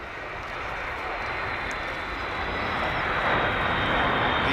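A Boeing B-52H Stratofortress with eight jet engines roars as a broad, steady rushing noise that slowly builds in loudness, heard from a distance at an air show at RAF Fairford.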